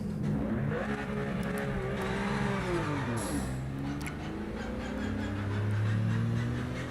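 A race car in Project Motor Racing accelerating hard on warm tyres, its engine note climbing through the gears with a rising whine, dipping at a shift and building again, loud and close throughout with no talking.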